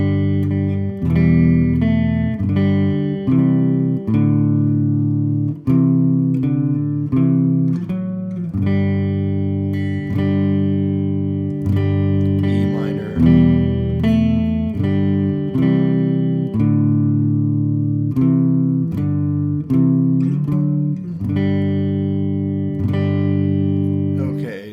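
A solo guitar plays a chord melody arrangement of Good King Wenceslas. Strummed and plucked chords ring in a steady hymn-like rhythm, close and full, with no talking over the playing.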